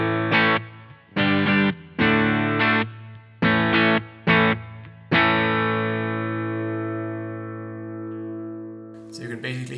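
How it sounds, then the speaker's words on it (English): Stratocaster-style electric guitar on the bridge pickup through a Boss GT-100 clean Fender Twin amp model with a little reverb: several short strummed chords, then one chord left to ring and fade slowly, loud and close, no talking. "the sound similar to a clean twin Fender amplifier, and this is one of my favorite amplifier types here in the GT-100"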